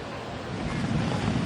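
A swollen river in flood surges past a house in Glan, a dense, continuous roar of rushing water mixed with buffeting wind on the microphone, loud and steady and swelling slightly toward the end.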